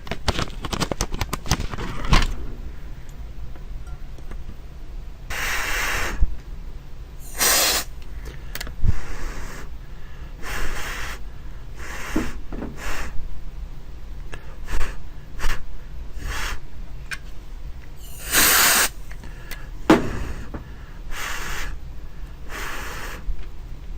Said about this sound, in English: Let's get the freeze spray and take a look.